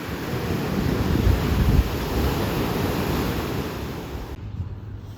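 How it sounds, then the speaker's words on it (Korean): Ocean surf breaking on a beach at Gangneung on Korea's east coast, a steady roar of waves with low wind rumble, loud and close, tapering slightly near the end, with no talk. "파도 소리 좋다 그렇지?"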